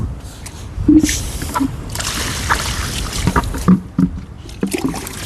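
Feet are washed with water, giving close sloshing and splashing in irregular bursts, with a few louder splashes in between.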